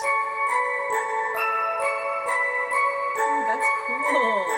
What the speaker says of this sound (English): created another sound in Pad Shop out of a music box or a bell